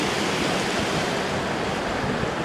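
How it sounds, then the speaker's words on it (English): Clear Creek, a year-round creek with Class 5 rapids, rushes in a dense, steady roar of churning water, loud and close with no pauses. "This is an awesome year-round creek."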